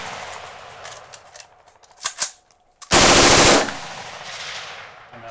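Guns firing at steel targets on an outdoor range: a few scattered sharp shots, then a loud, rapid burst of automatic fire lasting under a second, followed by quieter fading pops.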